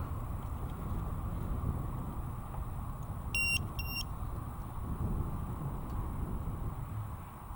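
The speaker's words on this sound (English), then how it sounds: "Put the voltage alarm." A battery voltage alarm on a Turbo Timber Evolution RC plane gives a quick pair of short, high beeps, clear above a low, steady background hum.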